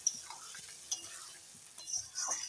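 Potatoes and pointed gourd sautéed with spices in a pan give a soft sizzle under intermittent scraping stirs, with a few light utensil taps against the pan.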